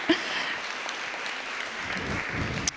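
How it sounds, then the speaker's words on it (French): Conference attendees applaud a speaker being introduced, a short, even patter of many hands clapping at moderate volume with a few sharper claps. "Nous pouvons l'applaudir."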